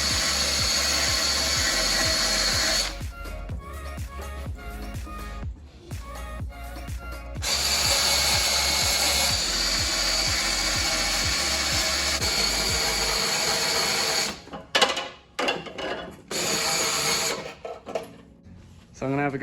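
An angle grinder works on metal in the engine bay of a supercharged VZ Commodore, whining loudly in long runs with short breaks, then sputtering and stopping in choppy bursts near the end.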